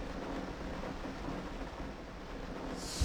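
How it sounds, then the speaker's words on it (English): Rain and rolling thunder from the video game Minecraft (Tekkit mod) form a dense, steady wash of noise with a low rumble underneath, continuous and fairly even throughout, with no talk. "Maybe we're in infinite night and rain."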